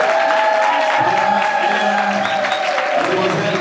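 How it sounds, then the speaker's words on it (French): Clapping and crowd noise at a civil wedding as the bride walks in with her father, steady applause mixed with murmuring voices and an amplified announcer speaking over it. "Sous vos applaudissements,"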